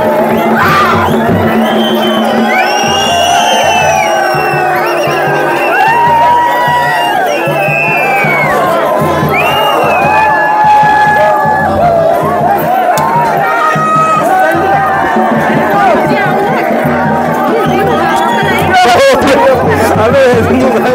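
A vast crowd at the Patti fair in Khandgaon, Pauri Garhwal, Uttarakhand, cheers, shouts and chatters continuously, a dense, loud hubbub with rising whoops and children's cries layered throughout.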